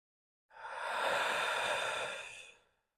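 A single long, deep yoga breath, a smooth airy exhale swelling in and then fading, close and isolated against silence, lasting about two seconds.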